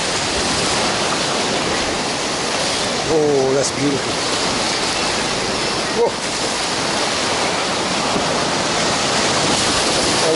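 Waves breaking at Bondi Beach, a loud continuous roar of surf washing in close by, with a person briefly exclaiming over it.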